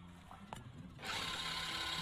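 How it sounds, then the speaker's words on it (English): Dough being whisked in the Cooking Simulator video game, a steady, loud broadband whirring that kicks in after a second of quieter clinking and continues without pause. "And we need to whisk it again."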